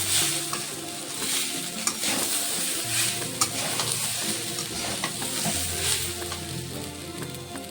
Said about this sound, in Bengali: দিয়ে দেবো মটরশুঁটি, চিনেবাদাম, আগে থেকে ভেজে রাখা কিশমিশ, ভালো করে নেড়ে নেব।